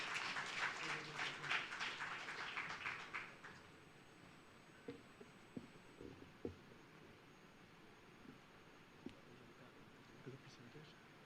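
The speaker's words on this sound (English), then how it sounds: "Let's give him a big round of applause, please" An audience claps for a keynote speaker at the Transcend Sarawak 2022 launch, a brief burst of applause that fades after a few seconds, leaving a quiet hall with a faint steady tone and scattered small noises.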